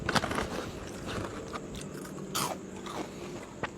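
Crispy fried mushroom snacks are bitten and chewed close up, giving a few sharp crunches followed by softer crackling chews, quiet and alone with no talking.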